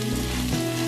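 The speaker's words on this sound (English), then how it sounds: "then you want to coat the rice until it's all covered in the oil and butter and everything from the vegetables" Risotto rice fries in oil and butter with vegetables and bacon, giving a brief, even, close sizzle with a faint steady hum beneath it.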